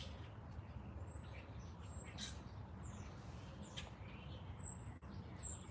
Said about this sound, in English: where's this bird at making this noise?